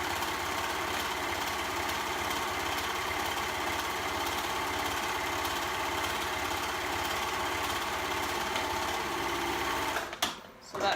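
A sewing machine runs steadily through fabric with a fast, even mechanical whir that stays close and constant, then stops abruptly near the end.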